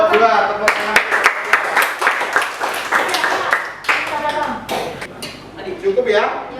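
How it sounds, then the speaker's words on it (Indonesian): A classroom group gives a burst of clapping for group 2 during a university performance test, mixed with voices and chatter. The clapping is dense at first and thins into scattered claps. "Tepuk tangan."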